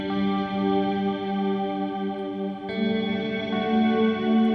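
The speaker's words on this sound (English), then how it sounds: "This adds loads and loads and loads of shimmer reverb to it." A sustained, bright guitar tone washed in shimmer reverb, with high octave-like overtones ringing and blending continuously.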